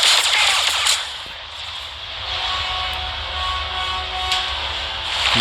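Rapid automatic blaster fire in the mobile game Star Wars: Hunters, loud and continuous at first, then easing into a steady background of battle noise.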